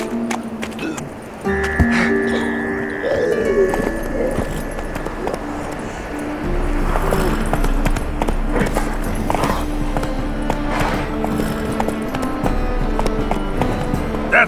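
Roach the horse gallops steadily in The Witcher 3, a continuous rhythmic clip-clop of hooves over game ambience and music, with a voice speaking at points.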